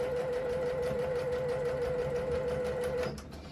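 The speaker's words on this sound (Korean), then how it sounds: "그냥 재봉틀로 이 위에 상침을 해주시면 됩니다." A home sewing machine topstitches across a thick tumbler bag, a steady close whirring hum with a fast stitch rhythm that runs for about three seconds before stopping.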